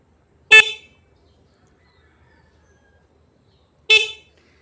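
Two short, loud beeps from a faulty motorcycle horn, separated by a few seconds of near silence.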